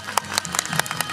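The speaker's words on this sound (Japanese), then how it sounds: "分かったもの拍手いたせ" A festival crowd watching a samurai troupe's performance gives scattered, uneven claps in a quick burst lasting just over a second.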